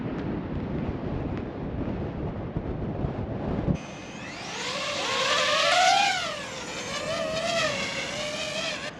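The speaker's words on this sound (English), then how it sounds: "it's pretty windy. Trees are moving pretty good" Gusty wind buffets the microphone outdoors among swaying trees, a low rumbling roar that gives way to the rising and falling whine of a DJI FPV drone's motors passing nearby.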